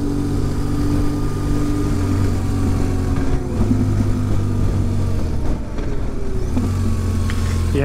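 A large motorcycle's engine while riding, a loud continuous drone that rises and falls with throttle changes, with wind rush, heard up close from the rider's position.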